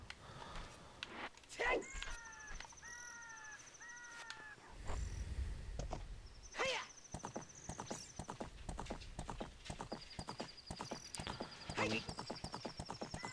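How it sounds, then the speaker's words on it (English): A horse in the randomized Legend of Zelda: Ocarina of Time trots with steady, clip-clop hoofbeats. A few short, squeaky, chirping calls replace the usual whinny, and someone talks quietly over the game audio. "they changed the noise the horse makes"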